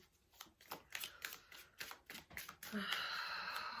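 Tarot cards shuffled by hand to draw a final card, a quick run of soft riffling flutters and taps up close, ending in a brighter sustained rustle.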